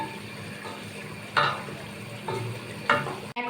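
Beef sizzles in a pot on high heat for biryani, a soft constant frying hiss broken by a few sharp stirring scrapes and clinks of a spoon against the pan.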